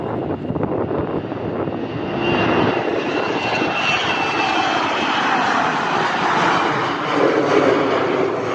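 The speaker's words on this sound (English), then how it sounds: "we're still waiting for clearance for this flight to take off" Airplane taking off at London City Airport, a loud sustained engine roar that builds and holds steadily as the aircraft accelerates down the runway, heard from nearby.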